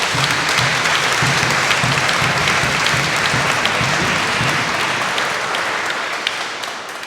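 A congregation at a Pentecost church service applauds a welcomed couple, a full, sustained burst of many hands clapping in a reverberant hall. It holds loud and steady for several seconds before gradually thinning out, with no one talking over it.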